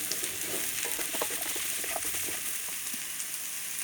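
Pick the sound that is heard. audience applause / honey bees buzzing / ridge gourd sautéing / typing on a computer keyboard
ridge gourd sautéing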